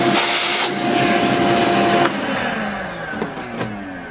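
A vacuum cleaner sucks up PCB milling dust from a Modela mill, a loud steady roar for about two seconds before dropping to a lower hum with a few small knocks; no talking.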